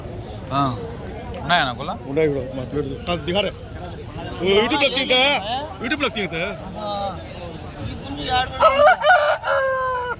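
A rooster crows loudly nearby among clucking fowl at the Galiveedu poultry market, while people talk underneath.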